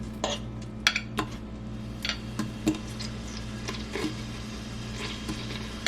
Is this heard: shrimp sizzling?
yes